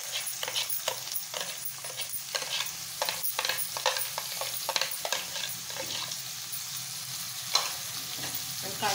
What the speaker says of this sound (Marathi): कांदा छान गुलाबी रंग येईपर्यंत आपल्याला हा परतून घ्यायचा आहे.